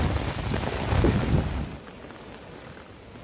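A heavy downpour falls outdoors during a net-fishing trip, roaring loud and close at first, then easing to a softer, steadier wash of rain partway through.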